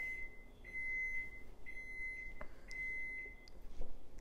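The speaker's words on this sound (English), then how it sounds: "It's the longest beep ever." A kitchen oven signals that it has finished preheating with a string of thin electronic beeps, the last ones drawn out, heard fairly quietly over room hiss with a few small clicks.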